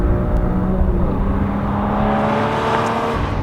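A rear-wheel-drive mid-engine Porsche Cayman on a racetrack, its exhaust note a loud sustained engine drone with shifting harmonic tones as it holds revs, steady and close throughout.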